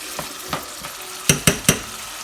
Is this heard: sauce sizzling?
yes